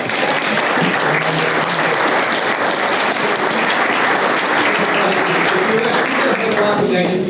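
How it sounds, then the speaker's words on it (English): Loud, sustained applause from a crowd at a scholarship awards event, dense clapping throughout with a voice faintly audible underneath. "Give him a round of applause."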